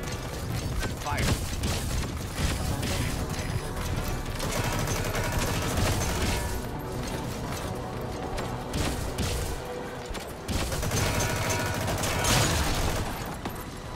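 Sustained gunfire and clattering mechanical action from the video game Metal Gear Solid 5: The Phantom Pain, loud and dense for the whole stretch, with bursts of shots layered over game sounds and talking voices.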